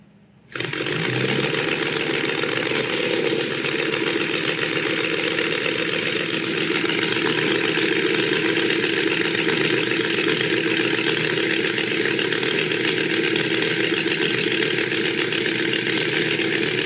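A model airplane engine on a Wedell Williams Model 44 catches right after a short silence and keeps running at a steady, loud, rattling drone for the rest of the clip, close up, with no talking.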